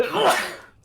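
A single sharp sneeze bursts out close by, a breathy explosive blast that fades quickly into quiet.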